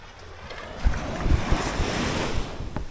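Sea waves wash and break along the shore at Negril, Jamaica, with gentle surf rolling in under steady wind buffeting the microphone and a few nearer splashes.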